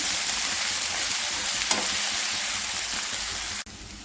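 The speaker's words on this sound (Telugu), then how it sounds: "కొద్దిగా పసుపు వేసుకోవాలి వేసుకొని వీటిని బాగా ఇలా కలబెట్టాలండి" Potatoes sizzle loudly in a frying pan as they are stirred with turmeric for an aloo masala curry, a dense steady crackle with scraping stirs, ending in a sudden sharp break near the end.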